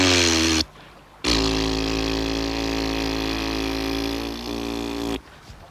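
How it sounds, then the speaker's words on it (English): A timber didgeridoo drones in long, deep, buzzing held tones, close and loud, with brief breaths of silence between notes and a slight wobble in pitch. "to play the didgeridoo, you've got to do a sharp raspberry"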